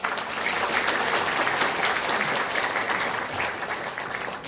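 An audience at a regional council policy forum opening ceremony claps, a full, sustained round of applause that stays loud and even for several seconds, with no talking over it.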